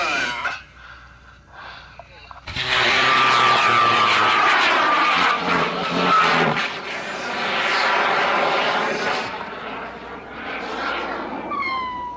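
A high-power rocket launches on a Hypertech Maxi M motor at an outdoor launch event. A loud, broad roar starts abruptly after a few seconds of quieter background and holds for several seconds, then rolls off and echoes as the rocket climbs.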